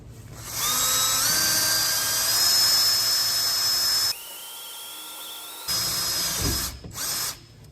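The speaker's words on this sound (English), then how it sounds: "You just kind of put the drill right in the middle of that hole." A power drill whines at high speed, briefly changes pitch as it bites into the sheet metal of a 2019+ Mercedes Sprinter VS30 van, then spins up again before stopping.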